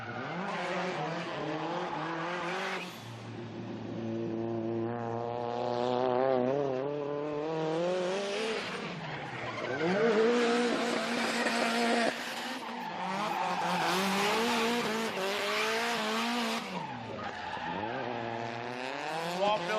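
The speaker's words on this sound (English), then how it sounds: "Down there shredding some tyres, getting that hectic style dialed." Drift cars shredding tyres at a Sydney drift event, with screeching tyre squeal and high-revving engines sweeping up and down in pitch. The sound is loud and sustained throughout, and a voice talks faintly underneath.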